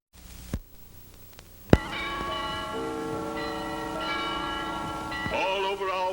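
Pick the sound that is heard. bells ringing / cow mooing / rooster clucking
bells ringing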